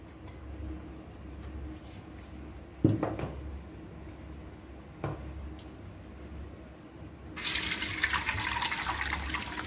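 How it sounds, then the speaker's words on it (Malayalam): Cooked beetroot liquid poured through a strainer into a steel vessel while making beetroot wine: a few faint knocks over low background, then a bright, rushing stream of liquid pouring steadily near the end. "ഈ കുക്കറിൽ നമ്മൾ വേവിച്ച് വെച്ച ഈ ബീട്രൂട്ടിൻ്റെ ഇത് നമ്മൾക്ക് ഇതിലേക്ക് അരിച്ചൊഴിക്കാം"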